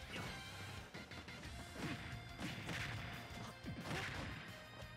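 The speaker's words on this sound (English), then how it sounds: "the down smash is gonna catch him as he's recovering back to stage" Cloud's down smash attack lands in Super Smash Bros. during a competitive match, giving a series of heavy crashing hits with swooshes mixed into dense game sound, loud and close.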